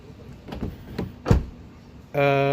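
A 2016 Renault Captur 1.2 Turbo TCe120 EDC car door gives a few soft thumps and a louder clunk, followed by a steady electronic chirp as the car locks.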